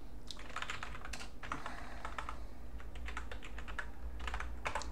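Typing on a computer keyboard while setting up a Linux system, clusters of quick close key clicks in bursts separated by short pauses, over a low steady hum.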